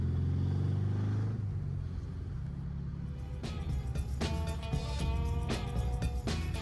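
An old, long-abandoned classic Porsche engine runs while driving, a low uneven rumble that grows rougher and more rattly, with sputtering, misfiring-like pulses, heard close from inside the car.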